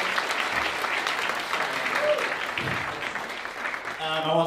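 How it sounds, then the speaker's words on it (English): Sustained applause from a jazz concert audience for a lab band, steady clapping throughout with a brief tonal sound near the end. "let's give another round of applause for the lab band for their fantastic performance"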